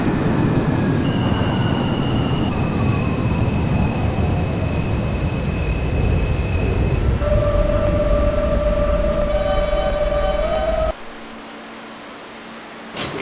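An R160 A local subway train in the OpenBVE simulator rumbles loudly and steadily along the Fulton Street line, with rising motor whine and tonal hums, before the roar cuts off abruptly near the end, leaving a quieter interior.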